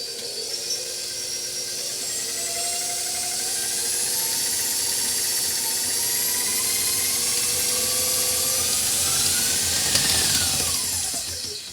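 An electric mixer whirs steadily at high speed, creaming butter and sugar for a gluten-free strawberry shortcake, a continuous hissing drone with a few rising pitch sweeps and a brief scraping rattle near the end.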